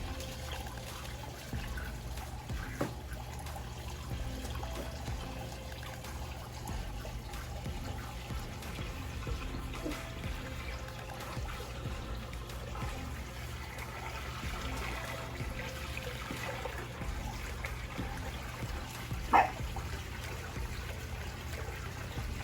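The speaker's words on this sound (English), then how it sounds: "now it's creating a swirling action that the water's spinning" Continuous low swirling and trickling water inside an aquaponics tank, steady throughout with one faint clink near the end.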